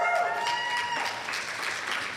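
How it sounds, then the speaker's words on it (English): An audience applauds at a community coronation ball, a steady wash of clapping that holds at an even level throughout without any talk. "I'd like to have one more round of applause for the candidates, their sponsors, and their families here tonight."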